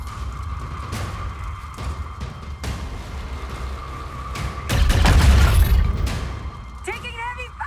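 Heavy gunfire and explosions erupt during XCOM 2 gameplay: sharp bursts of shots punctuate a steady tone, building to a loud, rumbling blast near the middle, with game voices calling out over the action.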